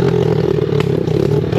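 A motorcycle accelerates along a dirt trail, its engine droning loud and close with rough clatter and scraping throughout the short burst.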